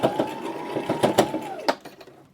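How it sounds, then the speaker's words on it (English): A sewing machine stitches a seam on a bandana headband at a 3/8 inch allowance, a brief close run of quick mechanical thumps and whirring that tapers off at the end. "running over that a few times with a 3/8 inch seam allowance."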